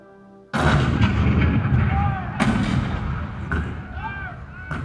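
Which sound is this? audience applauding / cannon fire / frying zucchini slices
cannon fire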